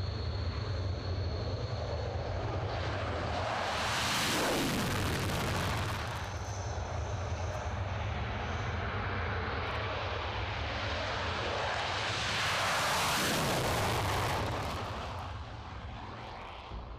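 Mirage 2000N jet fighter passing overhead, a loud roaring jet engine swelling into two broad rushing passes with a sweeping whoosh, alone without talk.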